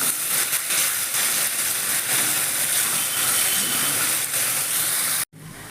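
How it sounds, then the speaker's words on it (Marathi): Masala paste with ground tomato frying in oil for a drumstick vegetable curry gives a steady, loud hiss and sizzle close by for about five seconds, then cuts off abruptly. "अजून तेलात चांगले भाजून घेऊया"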